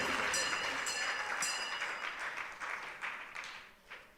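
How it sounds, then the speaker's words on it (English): A crowd claps for the candidates at a People's National Movement political rally in Tobago, loud sustained applause that gradually thins and fades over a few seconds. "Give them a round of applause."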